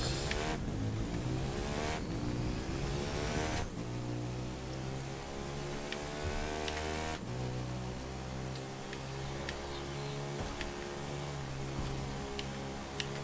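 A race car in The Crew 2 video game revs hard through gear changes with repeated tire squeals, loud, close engine roars rising and dropping in pitch, with no talking.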